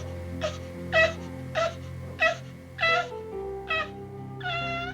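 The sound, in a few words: drug-addicted newborn baby's cat-like cry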